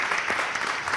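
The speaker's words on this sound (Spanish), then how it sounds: "aplauso para Bernal, por favor." Steady applause from an audience at a live Spanish-language interview event, a dense continuous patter of many hands held at an even level throughout the moment.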